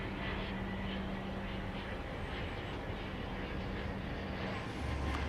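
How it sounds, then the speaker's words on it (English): An Embraer Phenom 300 business jet arriving from Miami at Dallas Love Field gives a steady, moderately distant engine rumble and whine that holds evenly throughout, with no voices. "It's an Embraer Phenom 300 arriving from Miami."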